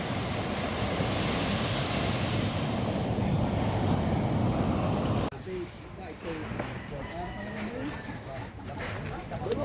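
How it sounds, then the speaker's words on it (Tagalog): Small, gentle ocean waves wash steadily onto a shore, a continuous broadband surf roar in the first half that drops to a quieter wash with wind and faint background voices afterward. "Medyo maliit-liit ng alon ngayon"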